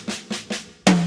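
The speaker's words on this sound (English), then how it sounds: "Bass and snare drum." Four close drum hits from a kit: three short, even strikes followed by a louder, ringing one that sustains, played solo as a bass drum and snare drum pattern for a song.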